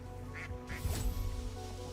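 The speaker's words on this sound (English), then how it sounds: "Shoot the ducks." Ducks in the video game Dungeons of Hinterberg give two short nasal quacks amid a dense, steady game soundscape with a low drone and a brief louder burst.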